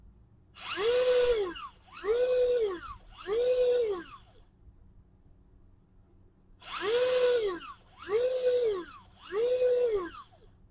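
Shimano Plays 3000XP electric fishing reel running its jigging function, motor whirring in six regular bursts of about a second each, three, a pause, then three more, close and clear with a faint beep at each start.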